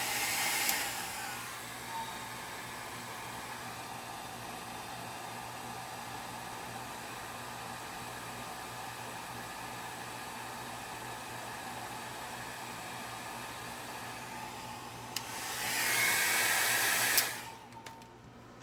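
A hair dryer blows a continuous, steady, close rushing whoosh over an alcohol and acrylic ink painting, with a brief louder burst near the end before it stops.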